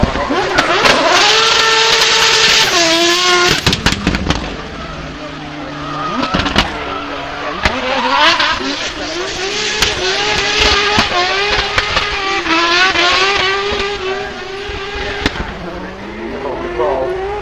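A drift car with a rotary engine revs hard at Goodwood Festival of Speed, loud and close, with rising and falling engine howls, sharp popping crackles and tire squeal throughout, while a voice talks over it.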